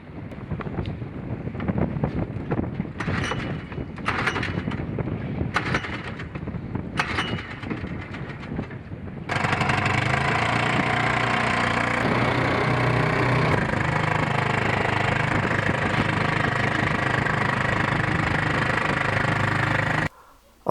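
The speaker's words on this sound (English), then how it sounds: "going to try and get the engine started" Sailboat outboard engine sputtering through several short pull attempts, then catching and running at a steady, loud drone close by while the boat is hove to, wind buffeting throughout.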